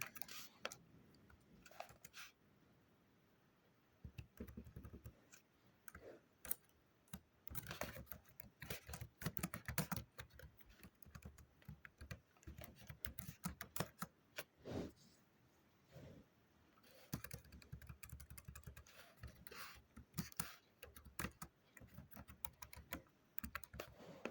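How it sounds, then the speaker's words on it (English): Rapid, uneven keystrokes on a computer keyboard, typing HTML in a coding lesson, clicking in dense bursts with short pauses, close and steady with no talking. "In the heading, I will type the city's name"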